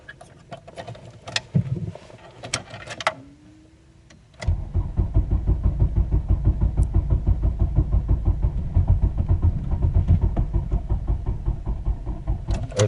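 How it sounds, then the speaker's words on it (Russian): A car engine is started after several weak attempts: faint clicks and short cranking, then the engine catches and settles into a steady, rhythmic running sound that carries on close by. "Сейчас сходу с лету прыгаем в машину, запускаемся и едем"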